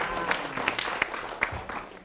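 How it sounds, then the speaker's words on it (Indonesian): Audience applause for two performers at an SMK Muhammadiyah 3 Palembang school event, a short spell of scattered clapping with a few sharper claps standing out, moderately distant. "Silakan kembali tepuk tangan untuk mereka berdua."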